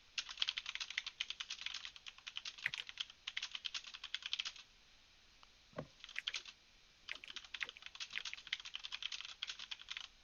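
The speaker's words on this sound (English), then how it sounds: "Sorry, I'm typing, so I didn't hear what you said." Rapid typing on a computer keyboard, close and fairly quiet, in dense bursts of key clicks separated by short pauses.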